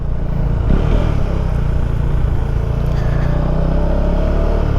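A motorcycle engine drones steadily nearby, a continuous low rumble with a slight lift in pitch as the bike gets moving, no voices over it.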